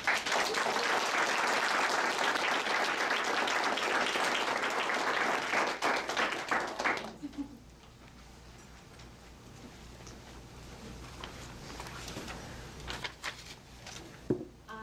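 Loud, sustained audience applause fills a graduation ceremony hall for about seven seconds, then cuts off abruptly, leaving faint room noise and a few scattered claps.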